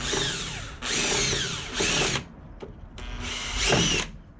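A power drill whines in several bursts, drilling through a metal lock with grinding pitch changes and brief pauses between runs, close up with no talking.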